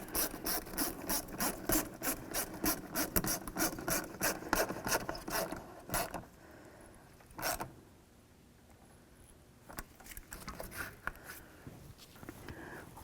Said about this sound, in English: Tighten up the clamp.